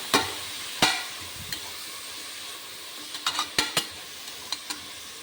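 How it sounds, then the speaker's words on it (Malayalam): A spoon scrapes and knocks against a pan as curry masala fries, in a few separate strokes over a soft, steady sizzle, close by and with no one speaking. "ഇനി നന്നായിട്ട് ഇളക്കാട്ടോ"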